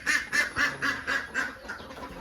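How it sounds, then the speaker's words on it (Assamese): A male duck quacks in a rural field setting, giving a steady series of about eight nasal quacks in an even rhythm, moderately close and clear, with no talking. "আৰু এজনী হৈ আছিলে মতা হাঁহ"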